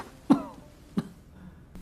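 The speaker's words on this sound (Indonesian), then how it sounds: "Tak lama kemudian terdengar suara batuk dari kakak kedua" A young man stirring back to consciousness coughs twice, about two-thirds of a second apart. Both are short, rough and close, with quiet in between.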